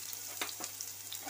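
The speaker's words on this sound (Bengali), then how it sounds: "এবার এই সোয়াবিনগুলো একটু কড়ায় ভেজে নেব" Soybeans fry in a kadai: a faint, steady sizzle with a couple of soft stirring scrapes over a low hum, very short.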